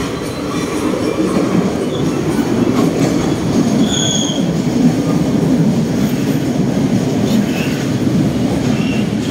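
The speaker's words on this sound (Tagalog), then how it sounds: "may parating na isang train" A train arrives at a station, loud and close, with a continuous rumble, clattering wheels and intermittent high squeals from the wheels and brakes. A faint voice may come through the noise.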